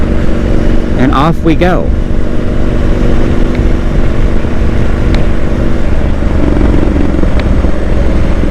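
A motorcycle in second gear, around 2,600 RPM, accelerates out of a right-hand turn with a steady, loud engine drone and a rising throttle sweep early on. A rider talks over it.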